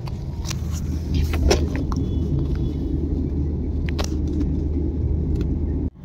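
A car from Dehradun, Uttarakhand drives along a road in India, its steady low rumble of engine and tyres filling the whole stretch with a few faint rattles on top, ending with a sudden drop near the close.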